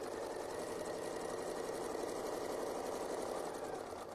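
A sewing machine runs steadily as it stitches a quarter-inch seam on a quilt block, producing a continuous, fast mechanical whir and rapid needle clatter that stays close and even throughout, with no talking.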